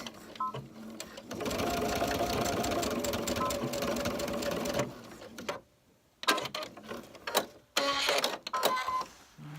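A sewing machine stitching a seam on bias tape runs in a steady, close whir for several seconds, then stops and gives a few short bursts and clicks.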